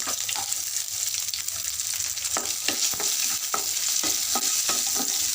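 Small shallots, garlic cloves and chana dal fry in a pan for radish chutney, giving a dense, continuous sizzle with frequent stirring scrapes and clicks, close and fairly loud, with no voices.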